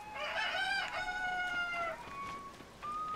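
A rooster crows loud and close among the chickens in Zelda: Tears of the Kingdom, one long drawn-out cock-a-doodle-doo followed by a softer trailing call, with no voices over it.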